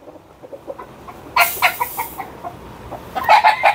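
Melsims hatch chickens on a Philippine farm, with soft scattered clucks followed by a rooster crowing up close, then more clucking and crowing bursts near the end.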